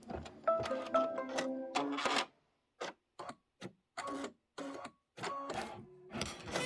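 An embroidery machine stitches a pie-themed design in quick rhythmic mechanical bursts, a steady run of rapid needle strokes followed by short separated clusters of stitching with silent gaps between them, close and fairly loud, no talking.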